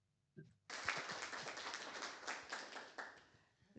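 Small audience at a presentation breaks into applause for the presenter, Mike, after a brief pause: a close, crisp patter of individual hand claps, fairly quiet and steady.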